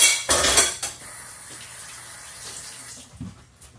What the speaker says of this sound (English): there's really not that much liquid in here, so I'm just going to scoop this over the top